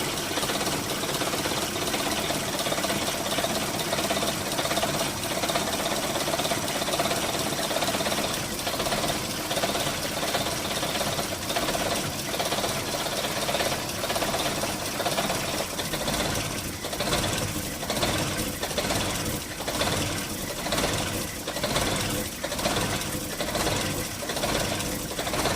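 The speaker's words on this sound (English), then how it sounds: "You can probably hear it a little bit, the stumbling" A car engine idling and stumbling after a MAF sensor cleaning, a continuous mid-pitched running sound with an uneven, pulsing rhythm that grows choppier toward the end, with no talk.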